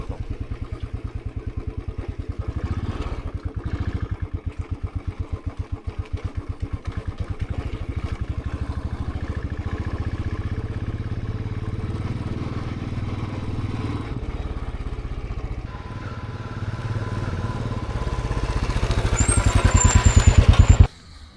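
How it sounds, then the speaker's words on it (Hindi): A motorcycle engine drones continuously under a rider on a long forest road trip, a loud, close, steady rumble with a faint clattering pulse that swells louder toward the end before cutting off, no talk. "कंटिन्यूस बाइक चला रहा हूँ"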